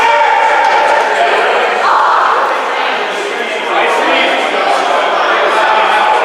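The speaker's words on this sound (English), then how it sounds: "I can hear a little bit of controversy from the crowd" Basketball crowd in a gym at a FCA Conquerors vs SR Panthers game protesting a call, a loud, continuous roar of shouting voices that swells and dips slightly without letting up.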